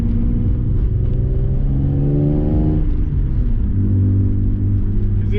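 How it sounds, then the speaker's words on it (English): Loud car with no sound deadening or door skins, heard from inside, its engine droning and rumbling steadily with rising and falling revs and a constant interior roar. "Because this car is loud."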